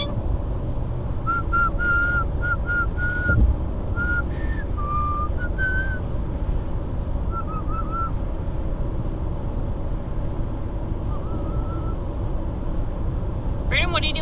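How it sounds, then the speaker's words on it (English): A pet parrot whistles a series of short, bright tonal notes inside a moving car on a road trip, over steady low road rumble, with a few longer whistles later and talk from people in the car. "Are you gonna do your whistling?"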